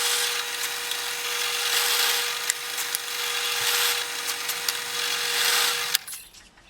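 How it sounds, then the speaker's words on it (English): A drill spins a countersinking bit to clean up holes in a magnesium firestarter block, a steady high whine with a constant tone that cuts off abruptly near the end. "So now I'm going to go ahead and use this countersinking bit to clean up these holes a little bit."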